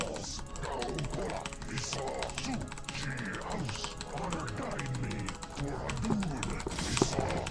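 Rapid spam clicking of a mouse and keys while playing StarCraft: Brood War, a steady stream of close, crisp clicks and keyboard taps under a voice talking.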